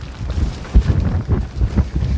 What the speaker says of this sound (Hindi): काफ़ी तेज हवा है, छतरी की शायद काम ना करे